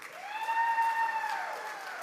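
An audience at an awards celebration applauds honorees, with soft clapping underneath a loud, drawn-out whoop that rises and falls across the short burst.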